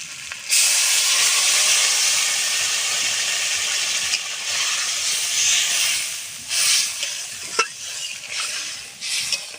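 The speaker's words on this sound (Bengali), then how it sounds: "ঝোলটা ফুটে গেছে" Fish curry broth with turmeric boiling in a pot, a loud, close bubbling hiss that runs steadily with a few louder sputters and pops toward the end.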